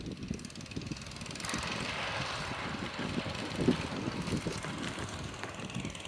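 A 1961 Arctic Cat Boss Cat snowmobile engine runs steadily, a loud buzzing drone that swells slightly after the first second and holds at a constant pitch.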